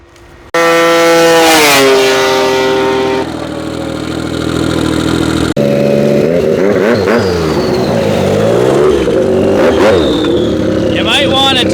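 A drag racing car roars as it accelerates down the strip, its engine revving hard and loud with rising and falling pitch, then a second car passes with a strained, sputtering note; voices talk over the engine noise.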